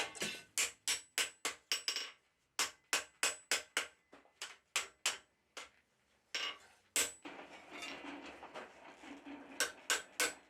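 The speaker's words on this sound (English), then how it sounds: "just hammer the straight section back down to the anvil" Steel being hammered on an anvil while forging a pair of shop-class dividers, a run of sharp ringing strikes in quick bursts with short pauses, then a denser scraping, clattering stretch before more blows.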